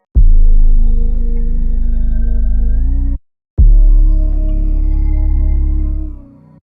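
Layered 808 bass hits combine a sub 808 with two 808s that have their lows cut, giving a booming ambient-beat tone with a deep low end. Two long sustained notes with a short break between them play loud and without voices.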